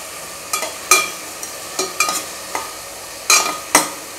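Ridge gourd frying in a pan as a spoon stirs it, giving a run of crisp scraping strokes and clinks at an uneven pace over a light sizzle.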